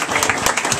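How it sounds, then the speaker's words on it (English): A crowd at a football awards event applauds four award winners in a brief, dense burst of clapping, loud and close. "Let's get one last round of applause for these 4 guys"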